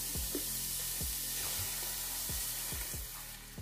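Oil hits a hot pan of onions and sizzles steadily, a dense hiss with a few soft knocks and stirring thumps scattered through, loud and close with no talking.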